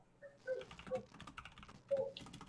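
Quick, uneven keystrokes from a computer keyboard clatter closely for a couple of seconds, mixed with faint tonal background sounds and no speech.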